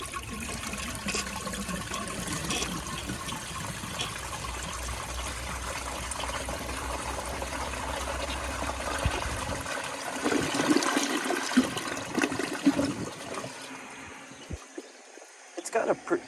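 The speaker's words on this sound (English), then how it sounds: "It's got a pretty good flush." A 1983 Kohler Wellworth Water Guard toilet flushes with a loud, steady rush of water that drops off into gurgles and trickling as the bowl refills.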